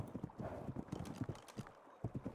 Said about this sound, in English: What is this horse?